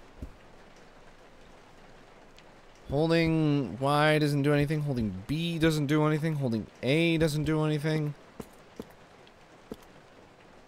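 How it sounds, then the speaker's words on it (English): Rain in the video game Resident Evil 0 makes a soft, constant hiss in the background, partly masked when a voice talks over it for several seconds in the middle. "Rain outside is quickly turning into a downpour."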